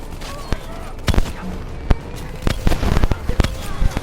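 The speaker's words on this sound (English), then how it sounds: "Hit him with the swarm launcher." Swarm launcher fire in Call of Duty: Black Ops III, sharp separate bangs and crackling blasts scattered through a noisy battle, loud and close, with voices heard among the explosions.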